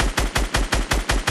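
Video game gunfire cutting down opponents, seven sharp evenly spaced shots in a fast rhythmic burst, loud and close with no talk.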